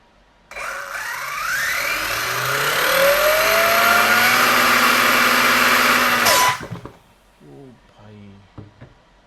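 Arrma Kraton 6S EXB 2025 RC car motor throttled up, a loud, close, high electric whine that climbs in pitch for about six seconds and cuts off abruptly, followed by brief talking.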